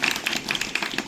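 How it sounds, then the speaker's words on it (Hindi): A group of students at a National Service Scheme session claps in a steady, even rhythm of close, sharp claps over about a second, with no talking. "ताली बजाओ इसके लिए"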